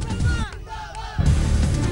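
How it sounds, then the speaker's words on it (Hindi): A crowd of supporters gathers with candidates filing nominations for municipal elections, a loud massed chorus of shouting and slogan chanting, with a brief dip in the middle before the noise surges back. "उम्मीदवारों के साथ दिखी समर्थकों की भीड़"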